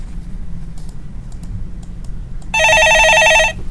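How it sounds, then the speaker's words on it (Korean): A telephone rings once with a loud electronic trill lasting about a second at the end, after a few light clicks like keyboard tapping over faint room hum. "예, 전화 받아보겠습니다"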